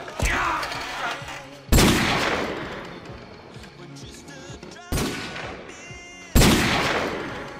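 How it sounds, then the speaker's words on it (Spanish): An M1911 pistol in Call of Duty fires with a Desert Eagle sound effect: four sharp, loud shots spaced a second or two apart, each followed by a long decaying echo and mechanical clatter. "cuando la dispara, el arma hace el sonido de una Desert Eagle"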